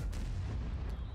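A single heavy tank cannon blast in a video game booms, followed by a rumbling, decaying echo.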